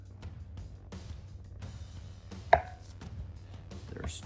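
A very sharp knife cuts slices from a chunk of bologna on a board, with a few soft cutting sounds and one crisp knock of the blade hitting the board, heard close and quiet over a low background hum.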